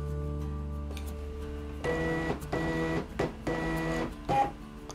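A thermal label printer feeds labels during calibration, with loud whirring motor bursts in several short pulses over a steady electrical hum.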